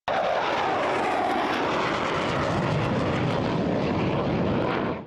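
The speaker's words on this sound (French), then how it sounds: "Les chasseurs français Mirage 2000 décollent pour dissuader et neutraliser la menace." French Dassault Mirage 2000 fighter jets take off during a military exercise, a loud sustained engine roar with a sweeping tonal shift as the aircraft pass, filling the whole stretch before easing at the end.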